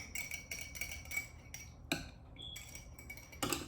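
A utensil scrapes and clinks against a bowl, folding applesauce into oat waffle batter with quick irregular taps and light scrapes, close and quiet, with no talking.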